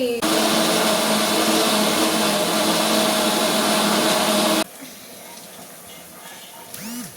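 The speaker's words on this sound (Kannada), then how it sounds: "ಸ್ವಲ್ಪ ನೀರು ಹಾಕಿ ಚೆನ್ನಾಗಿ ನುಣ್ಣಗೆ ರುಬ್ಕೊಬಿಡಿ" A kitchen mixer grinds red chilli paste with a little water, a loud steady whirring for several seconds that stops abruptly, leaving quieter room sounds behind.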